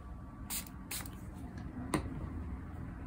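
A spray bottle gives two quick hissing spritzes of water onto a watercolor painting, followed by a soft squish and a later third spray against a quiet background.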